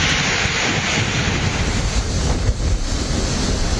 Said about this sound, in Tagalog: Malalakas na hangin at ulan ang humampas sa Batanes